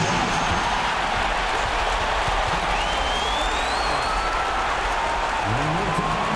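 Broad, continuous crowd roar and applause filling a simulated NBA 2K25 basketball arena, a steady noisy wash with a few faint whistle-like tones gliding through it.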